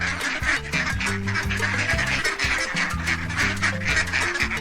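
A duck quacks repeatedly in quick, rhythmic bursts, close and fairly loud, with a music-like backing underneath in a farm-animal setting.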